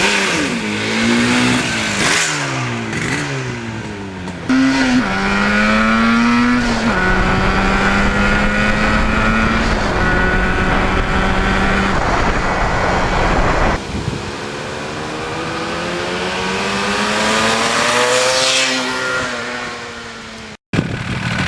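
A 1977 Yamaha RD400 two-stroke motorcycle runs on a cold fall day, its buzzy engine revving up and down through several loud, close throttle swells. Pitch climbs and falls as it accelerates, with a brief cutout near the end.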